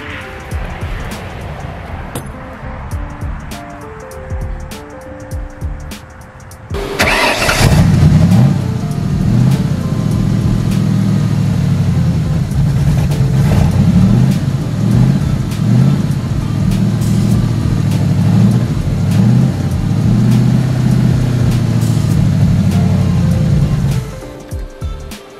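A Ford Mustang GT with a swapped 5.0 engine cranks and starts after a short quiet stretch, then holds a loud, steady, rumbling run with a few revs for about seventeen seconds before it cuts off.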